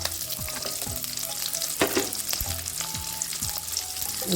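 Garlic frying in a pan for a Tamil manathakkali keerai and chutney recipe, a steady close sizzle broken by scraping stirs of a spoon against the pan.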